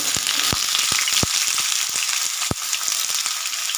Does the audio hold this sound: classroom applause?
no